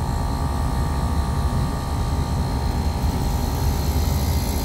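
A Midea 4-ton floor-standing air conditioner's compressor, drawing high amperage, runs with a loud, steady, close droning roar and a faint tonal whine, unbroken throughout and with no talking.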